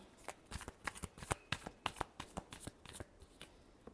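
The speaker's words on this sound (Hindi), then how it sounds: "Last shuffle." Tarot cards are shuffled by hand in a quick, uneven series of crisp riffles and slaps, close and fairly quiet, with no talking.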